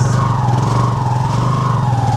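A tricycle's motor runs steadily on the ride to a port near Boracay, a continuous mid-pitched engine drone with a faint pulsing rhythm, close and fairly loud, with no talking.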